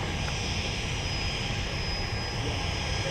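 Jet airliner departing runway 17 at Minneapolis–St. Paul airport, a loud, steady broadband engine roar sustained throughout without a break, with no voices over it.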